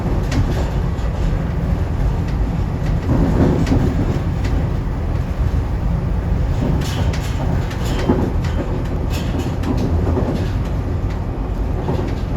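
A SEPTA SL5 train rumbles along the rails in a steady, loud interior drone, with occasional clicks and clatter from the track while riding in mid-January; no talking.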